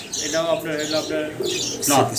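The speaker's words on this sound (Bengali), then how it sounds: "দর্শক আমরা সিঙ্গেল সিঙ্গেল এখানে তিন পিস কবুতর দেখতে পারতাছি" Pigeons in a breeder's sale setting coo and chirp close by, with someone talking over the soft, repeated calls.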